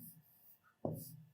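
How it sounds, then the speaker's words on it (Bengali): Pen or marker strokes writing the Arabic letter kaf, a short scratchy scrape that starts abruptly near the end and carries on briefly, close and fairly quiet with no talk. "আমি এখানে লিখলাম কাফ"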